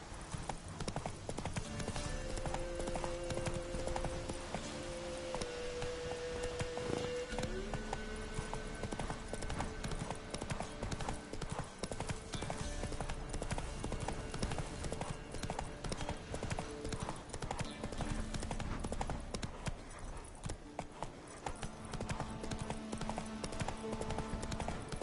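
Horse hooves clip-clop steadily on ground in the swamp area of The Witcher 3: Wild Hunt, a continuous rhythmic walking gait heard close and moderately quiet, with occasional snorts and game ambience behind.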